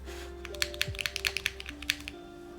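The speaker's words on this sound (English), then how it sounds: "It will change the sound of the keyboard." Nearby typing on a computer keyboard, an irregular run of crisp clicking keystrokes over a faint background hum, with no voices.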